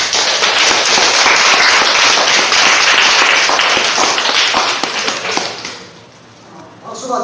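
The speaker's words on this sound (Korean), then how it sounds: "우리 큰 박수로 우리 강사님 격려해 주시면 감사하겠습니다." Loud, dense clapping from a crowd at a gathering in a care hospital in Yeosu, sustained for several seconds before thinning out and stopping, with brief talk underneath.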